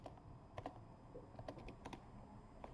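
Keystrokes on a computer keyboard while entering server update commands at a host's command line, a quiet, uneven patter of separate clicks with small bursts, close and without speech.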